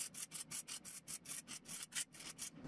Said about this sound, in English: I just like to file it down a little bit since the end can be a little bit rough.